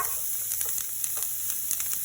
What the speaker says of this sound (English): You hear that sizzle and pop? That means that our pan is hot enough.